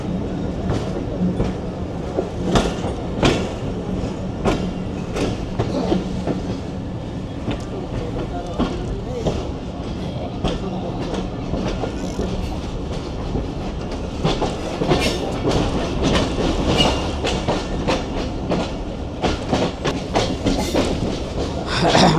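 A moving Tungipara Express passenger train gives a steady, loud rumble from inside a carriage, with continuous rattling and repeated clickety-clack wheel beats throughout.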